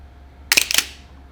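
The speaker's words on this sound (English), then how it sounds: "Now you saw that the leaf shutter fired, the camera curtain fired at 1/8 of a second, and the flash fired." A Pentax 67 medium-format camera with a leaf-shutter lens fires together with its focal-plane curtain at 1/8 second and a synced flash, giving two quick sharp mechanical clacks close up over a low steady hum.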